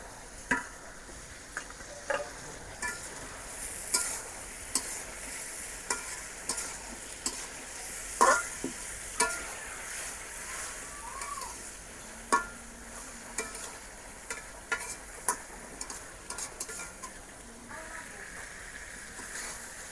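Taro and potatoes fry in a pan, with a constant sizzle broken by regular scraping stirs of a spatula, repeating every second or so throughout.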